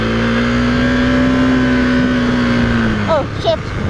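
A KTM 390 Duke motorcycle engine on a test ride holds a steady, droning rev close up, then the pitch drops and shifts as the throttle changes near the end.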